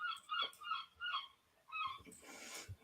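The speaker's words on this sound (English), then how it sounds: "Sorry if you can hear those seagulls" Seagulls call near a beach, several short harsh cries in quick succession, fairly close and clear, followed by a rush of wind or surf noise.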